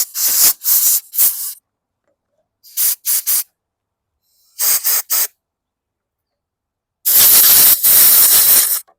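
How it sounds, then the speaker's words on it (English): Compressed air blasts onto a portable generator's carburetor during a no-start repair: three short bursts, then two, then three more, and finally one long hiss of about two seconds, loud and close with silence between. "Got my compressed air."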